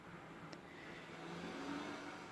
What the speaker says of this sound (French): il y a les voitures qui passent